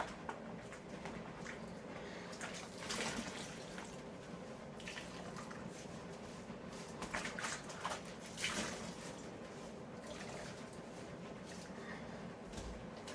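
Wool dryer balls made from old sweaters are rinsed of soap in water, giving steady splashing and sloshing with occasional louder swishes, close and continuous with no talking.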